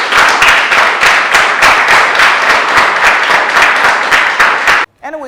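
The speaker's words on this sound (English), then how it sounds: "give yourselves a round of applause." Loud, close applause from a reality show audience, dense rapid clapping that holds steady for several seconds and then cuts off abruptly as a voice starts talking.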